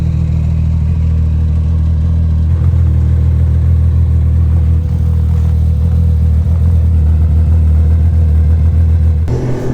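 A 1200 motorcycle engine drones loudly and steadily while riding off on a trip through Vermont, a constant low rumble dominating throughout with a sudden change at the very end.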